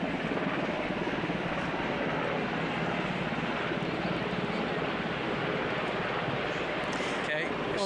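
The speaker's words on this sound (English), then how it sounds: "Yeah, this is a flyover." Aircraft flyover above a Patriots Day parade in Lexington, a loud, steady engine roar holding for several seconds with broadband rumble, crowd and commentary blended beneath it.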